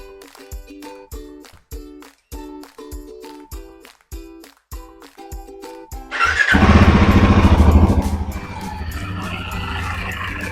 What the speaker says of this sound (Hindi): आप देख रहे हो यहाँ पे इंजन का नॉइज काफी स्मूथ है।